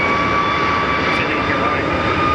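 Jet airliner roaring loudly overhead during a go-around at Sky Harbor airport, a steady broad engine rush with a thin whine across the whole stretch.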